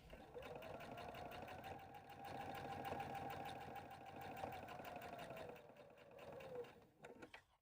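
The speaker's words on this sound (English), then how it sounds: "I'm going to sew 1/8 inch right around this center rectangle cutout." A sewing machine runs steadily, stitching fabric 1/8 inch around a rectangular cutout on a heifer-themed tissue cover. The even, rapid whir holds for about six seconds and then slows and stops, with a few faint handling clicks after it.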